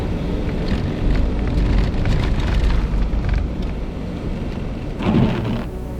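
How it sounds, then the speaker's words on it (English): Steady rain falls on a beach hunting spot, a continuous dense hiss with gusty swells and a brief louder surge near the end. "Why is it still raining?"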